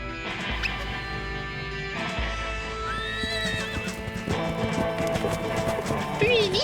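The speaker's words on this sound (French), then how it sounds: "Un cheval." Cartoon horse neighing loudly with galloping hoofbeats in a sheriff-and-bandit chase scene, whinnies rising over busy music and effects, with a voice cheering.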